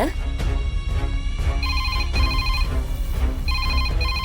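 A phone rings with a repeating electronic ringtone in bright, evenly spaced tonal bursts, loud and close over a busy background of voices and music.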